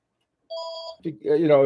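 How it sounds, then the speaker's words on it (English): A phone beeps an electronic alert tone for about half a second, clear and close, followed immediately by someone speaking. "oh stupid phone"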